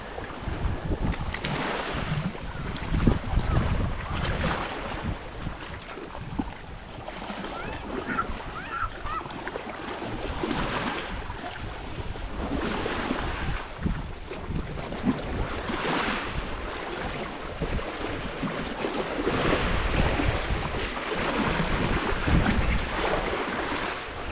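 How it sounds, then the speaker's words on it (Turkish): Sea waves wash and roll onto a beach at Akbük in Muğla for a long stretch while wind buffets the microphone, a continuous rushing surf with swelling surges. "Çok güzel deniz."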